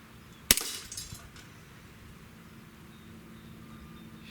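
A single sharp pistol shot from a SIG Sauer Emperor Scorpion 1911 cracks out once during accuracy testing, its brief report decaying quickly into quiet outdoor background.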